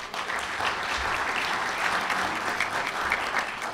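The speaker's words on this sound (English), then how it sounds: "Please give Jim a round of applause." A room full of luncheon guests at a press club applauds steadily, the dense clapping holding at an even level for several seconds.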